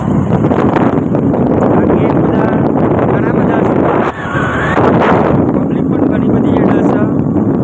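Steady roar of wind rushing past a running motorbike on a highway, loud and continuous throughout, with engine drone buried beneath the buffeting.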